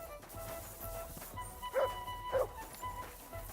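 A dog in the medieval role-playing game Kingdom Come: Deliverance 2 gives two short barks about half a second apart, set against quiet background ambience.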